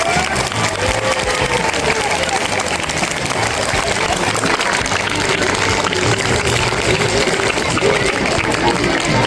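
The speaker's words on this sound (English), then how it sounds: "Give her a huge round of applause." Steady applause fills a school felicitation ceremony hall, a dense continuous clapping from a large audience that keeps going without a break, with faint voices mixed in.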